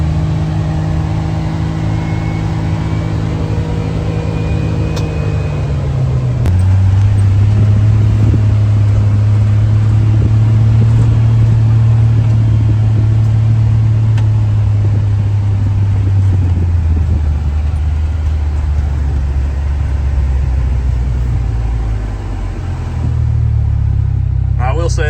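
A 2025 CF Moto 1000 Highlander side-by-side rolls into a shop, its engine a steady low drone that rises in pitch midway, eases back down, then dips briefly near the end, heard close and loud inside the cab.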